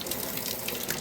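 Cold mountain water from a stone crevice pours from a tap in a steady, continuous, close-up rush with no pauses.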